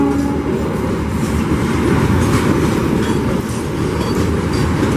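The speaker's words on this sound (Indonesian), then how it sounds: "Papandayan masuk jalur 2 stasiun Cibatu ya." A Papandayan passenger train on the Garut–Gambir service rolls into track 2 at Cibatu station, a steady loud rumble of wagons and wheels with faint clickety-clack running throughout, no voices.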